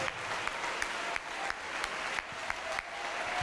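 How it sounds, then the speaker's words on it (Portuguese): A church congregation claps together in worship, a fairly distant wash of many hands with a few sharper claps standing out, steady and unbroken. "Vamos aplaudir ao Senhor Jesus."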